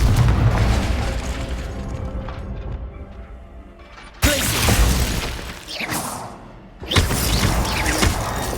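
A Confringo fire spell explodes in the video game Hogwarts Legacy, with two sharp, loud blasts that boom and crackle over a busy rumbling game background.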